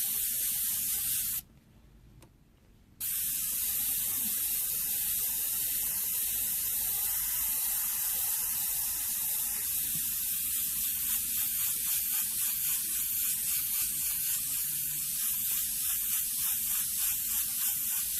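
Airbrush spraying paint onto a monotone portrait gives a steady, close hiss that runs almost without a break, cut off once for about a second and a half before resuming at full strength.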